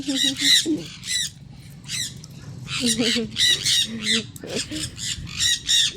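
A pet bird squawks loudly and repeatedly at close range while being fed at a Khao Yai animal attraction, harsh calls coming in quick bursts with short gaps, and people talk quietly underneath.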